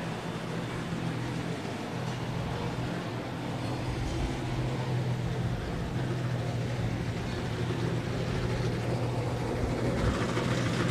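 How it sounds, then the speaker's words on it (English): A dense, steady roar of NASCAR race truck engines idling and revving together in the Charlotte garage, continuous and fairly distant, with no voices. "you hear the engines tuning right now"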